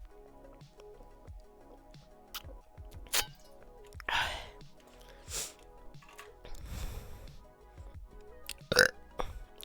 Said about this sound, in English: That was a sort of loud burp.